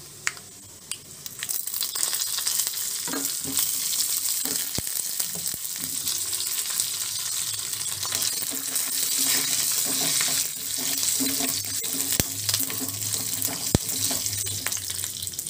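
Oil sizzles steadily as dried red chillies, asafoetida and curry leaves are tempered for a sesame chutney, a continuous close frying hiss with a few sharp clinks and pops, and no talk.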